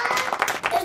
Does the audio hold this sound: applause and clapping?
yes